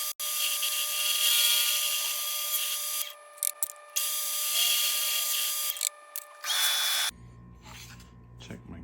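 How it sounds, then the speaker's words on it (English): Power drill boring holes into metal roof rack mount brackets on a Sprinter van, several loud high-pitched whining bursts separated by brief stops, close by, ending with a short stretch of quieter handling noise. "Check where my drill bit hits it."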